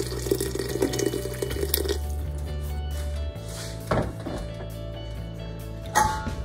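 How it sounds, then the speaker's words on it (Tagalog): Water running into a cooking pot while making miso sinigang with tilapia, a steady close splashing rush with shifting tone and a few louder knocks and clatters. "Lalagyan na po natin ng tubig."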